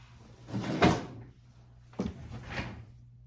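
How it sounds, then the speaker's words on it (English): A drawer slides open with two distinct bumps and scrapes, one near the start and another a second later, close and fairly loud in a quiet room. "oh no, the drawer is open."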